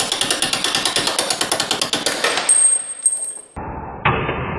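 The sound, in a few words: hammering a 1/4 inch extension to punch out a door hinge pin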